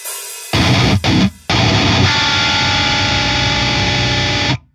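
Distorted electric guitar plays a metal breakdown: a couple of short, heavy chugs broken by abrupt stops, then a sustained high-pitched dissonant chord that rings loud and dense before cutting off.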